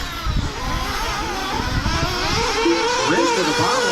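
Sportsman-class nitro RC buggies race around an outdoor track, their small engines making a loud, continuous high buzzing whine that rises and falls as they accelerate past.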